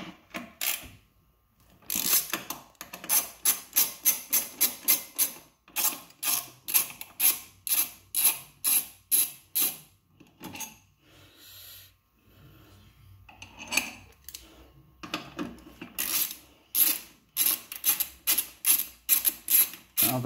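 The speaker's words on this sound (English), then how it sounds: "12 millimeter socket." Ratchet with a 12 millimeter socket turning bolts on a Yamaha V Star 1100 during rear wheel removal, rapid rhythmic clicking bursts repeated many times with short pauses, close and clear with no talk.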